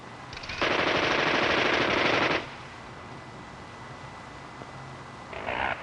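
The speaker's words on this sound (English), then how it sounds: "will accept either the 6-barrel M61 20 millimeter cannon or a prototype 3-barrel 30 millimeter cannon" An M61 20 mm six-barrel cannon fires in test, heard as a loud continuous buzzing burst of about two seconds, then a short faint burst near the end against quiet background.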